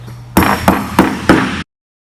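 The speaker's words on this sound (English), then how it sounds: "we are going to punch that hole through where we just skived that void in the outsole" A hammer strikes a 5mm hole punch four times at a steady rhythm, driving it through a thick-tread shoe outsole. The blows are close and loud, each a sharp knock, and silence follows.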